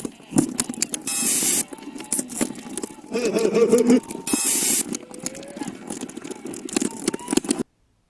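Harsh glitchy digital noise made in Audacity, bursts of hiss and crackle switching abruptly with warbling tones, loud and choppy before cutting to silence.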